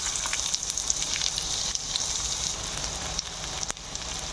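Chopped onion sizzling in a pan as a momo filling is started, a steady, close frying hiss with faint crackles running throughout, no voices.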